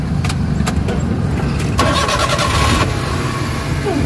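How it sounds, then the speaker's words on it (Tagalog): A Suzuki K6A engine in a DA64/DA63 vehicle cranks with a few quick starter bursts, then catches and settles into a steady, loud idle, heard up close. "Pandalin na natin yung engine."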